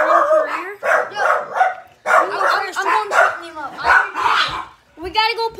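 Dogs barking close by in quick, repeated yappy bursts with a few whimpering yips mixed in, going on steadily with only brief pauses.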